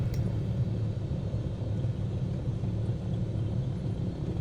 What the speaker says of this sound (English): So taxi in and park up.